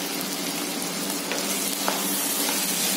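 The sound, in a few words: chicken frying in a pan for curry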